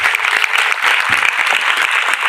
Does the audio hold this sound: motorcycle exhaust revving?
no